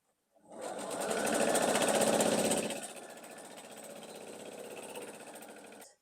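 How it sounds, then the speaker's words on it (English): A sewing machine runs fast and loud while stitching quilt block pieces together, a dense rapid chatter that then eases to a slightly quieter steady stitching until it stops. "So I'm just going to sew this one on."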